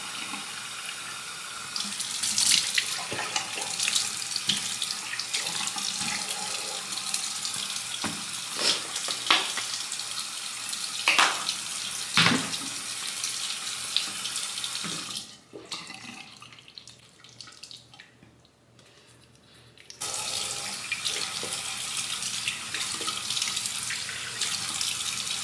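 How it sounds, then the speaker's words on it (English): A bathroom sink tap runs in a steady hiss while a face is washed, with splashes and hand rubbing; the flow drops away for a few seconds, then gushes back. "So I'm going to actually wash my face."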